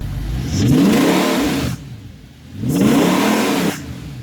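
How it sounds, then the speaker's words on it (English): Audi R8 V8 engine revving in two strong bursts, each rising in pitch, with a quieter lull between them, close and loud, no talk. "I'm usually listening to the aggressive growl of my V8 engine"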